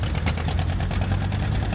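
Vintage tractor engines idling and chugging in a tractor parade at the Arizona Flywheelers Show, a steady low rumble with faint rhythmic knocking, fairly close and continuous.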